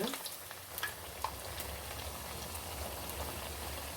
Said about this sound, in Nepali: हल्का भएपछि यसलाई हामीले पल्टाइदिँदै अलिक गोल्डन फ्राई हुन्जेलसम्म फ्राई गर्नुपर्छ